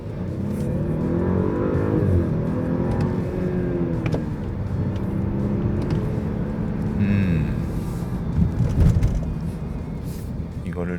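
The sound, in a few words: Audi A8 55 TFSI transmission shifting while driving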